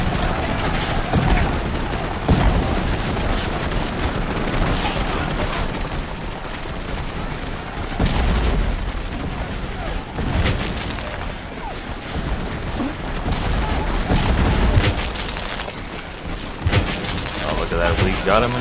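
Cannon and musket fire in the Take Command 2nd Manassas battle game, repeated booms and crackling volleys rolling through the whole stretch, loud and dense, with someone talking over the fighting.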